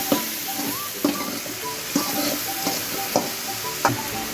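Bottle gourd and chana dal kootu stirred in a pan over a soft sizzle, a spoon scraping the pan in steady strokes about once a second, close and clear with no talk.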